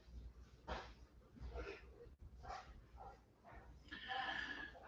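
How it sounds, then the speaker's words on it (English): Dogs, in a setting where chow chows are bred, giving soft yips and whimpers with a higher whine near the end, faint and somewhat distant, mixed with low background voices. "Well, what's up with the dogs, Edith?"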